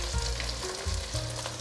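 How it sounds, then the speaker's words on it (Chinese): Potato slices pan-frying in oil after being flipped, a loud, dense, continuous sizzle close up, with a low rumbling undertone and no voices. "都翻面了，再继续让它煎。"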